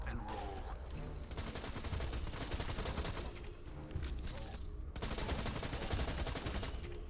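Rapid automatic gunfire from a high fire-rate weapon in Borderlands 2, a dense unbroken stream of shots running nearly the whole time with one brief pause, loud and close with no talking.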